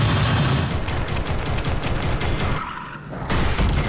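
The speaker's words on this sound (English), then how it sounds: "we hear some of the gunfire impacts and stuff" Rapid gunfire in a film's monster fight scene, a dense rattling volley of shots that is loud and continuous, briefly easing before a final burst, with no voices.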